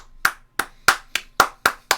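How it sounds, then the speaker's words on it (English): Slow, evenly spaced hand claps sound up close, seven sharp crisp smacks about a third of a second apart, with nothing else around them. "everyone watching you walk by just starts clapping"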